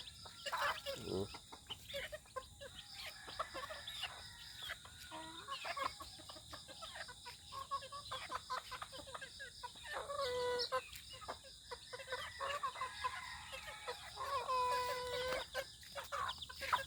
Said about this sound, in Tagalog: Ito yung mga sisiw ko